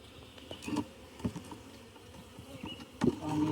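Honeybees buzz around an opened beehive outdoors, a low insect drone mixed with scattered light knocks and handling noises, with no voices.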